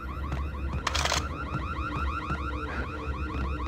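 A car alarm going off in the video game Max Payne cycles through a continuous warbling, whooping tone. A sharp noisy burst interrupts early on.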